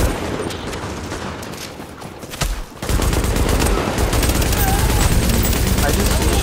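Dense bursts of rapid automatic gunfire from The Division shooting out display screens, loud and continuous with sharp cracks and a brief lull before the barrage resumes at full intensity.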